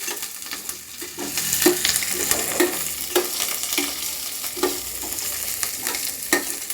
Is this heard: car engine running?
no